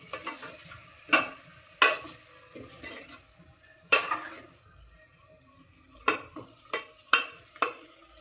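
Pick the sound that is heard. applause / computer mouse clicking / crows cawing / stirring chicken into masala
stirring chicken into masala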